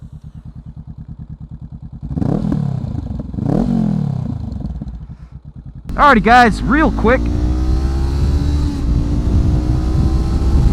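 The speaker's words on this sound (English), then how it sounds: "let's hear how this slip-on sounds on the road, shall we?" A starter motorcycle fitted with a slip-on exhaust idles with a steady low burble, then is revved in several sharp rising blips, close and loud; someone speaks briefly over the idle early on.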